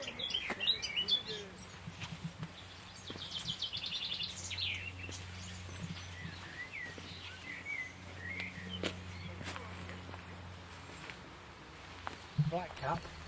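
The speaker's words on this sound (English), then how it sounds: "Blackcap, and there's chiffchaff and willow warbler." Blackcap, chiffchaff and willow warbler sing in Moorpond Woods as scattered, faint chirps and warbled phrases over a low hum, with people talking quietly.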